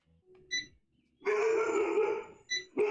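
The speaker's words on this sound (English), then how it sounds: "there goes my dogs" Dogs at home bark in a few sharp, loud bursts close by, with short quiet gaps between the barks.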